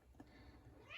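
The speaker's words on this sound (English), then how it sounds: "sorry my cat's interrupting" A house cat lets out a single short meow indoors, faint and brief against a quiet room.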